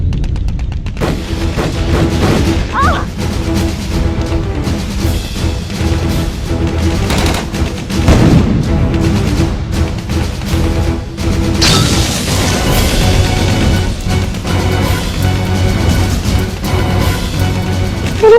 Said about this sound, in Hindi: मैं कवर फायर करता हूँ, तुम लोग बंकर नंबर 2 तक पहुंचो।